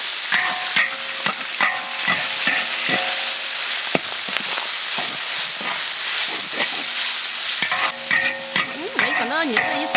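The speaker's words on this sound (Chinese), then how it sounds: "油下进去，先来点姜蒜炒，好，再加入牛肉" Beef stir-frying in hot oil with ginger and garlic: a loud, continuous sizzle broken by repeated clattering scrapes of the spatula, close up and without talk.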